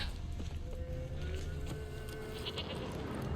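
A goat bleats in The Witcher 3 video game, a long wavering call heard close and clear over a steady low game ambience.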